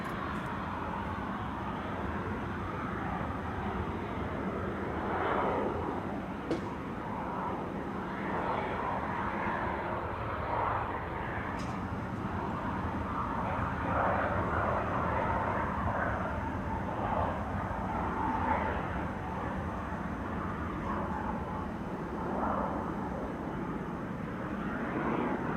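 Business jet on the runway at Amsterdam Schiphol Airport, a steady, distant broadband jet roar that holds fairly even for the whole stretch, with no talk.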